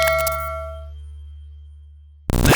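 A notification bell rings one bright metallic ding, then its tone rings out and fades slowly before a sudden burst of sound cuts in at the end.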